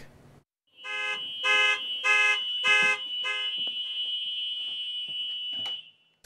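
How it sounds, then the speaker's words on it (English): A school bus child-check alarm sounds as a loud electronic tone in four evenly spaced pulsing bursts, then holds as a steady beep that runs on for several seconds before cutting off. "Before the bus is turned off, the driver must disable an alarm, but the only way to disable it is by walking to the back."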